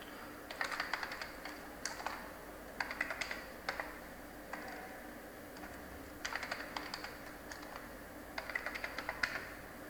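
Fingers type on a computer keyboard to log into an ESXi console. Several bursts of quick key clicks are separated by short pauses, close but fairly quiet, with no voices.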